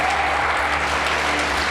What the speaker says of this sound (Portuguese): Aplauda ao Senhor, faça isso.